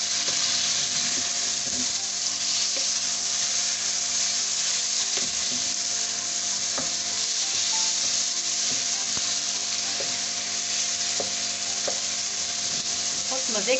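Chicken sizzling steadily in a karahi, a dense continuous fry with occasional soft stirring clicks, close and loud throughout, no voices.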